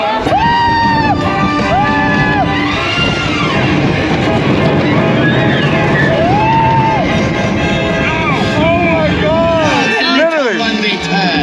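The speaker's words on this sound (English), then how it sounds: "Ride number 19, Incredicoaster." Incredicoaster roller coaster at Disney California Adventure roars along with a constant loud rumble while riders scream, whoop and shout throughout the ride.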